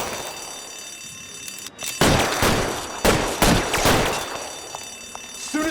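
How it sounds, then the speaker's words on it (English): Suppression fire in the 1940s crime game L.A. Noire: a few loud, sharp gunshot bursts ring out over a steady background hum, spaced roughly a second apart, with no voices. "I'll lay down some suppression fire."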